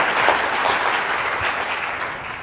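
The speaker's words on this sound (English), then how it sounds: "let's give them a round of applause" Loud, dense audience applause at a comedy show, steady and continuous throughout without a break.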